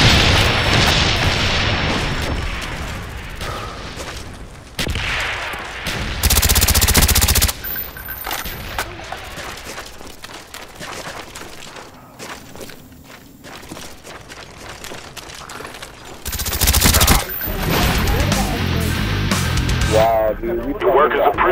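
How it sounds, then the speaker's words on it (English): Heavy bursts of gunfire and thudding explosions from a B-52 airstrike in Call of Duty Black Ops team deathmatch, loud and close, with game radio chatter and voices talking over the din. "Friendly B-52 on the way."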